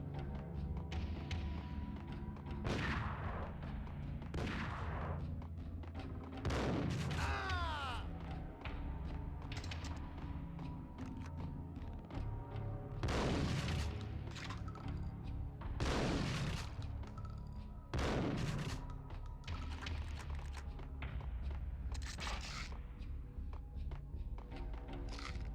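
Scattered gunshots in the Max Payne video game, a handful of sharp, loud reports spaced several seconds apart over a humming game background, with a voice talking in places.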